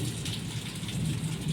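Steady heavy rain patters on surfaces while a low thunder rumble rolls underneath, filling the whole short stretch with dense hiss and no voices.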